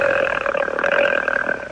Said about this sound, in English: you just can't burp in the car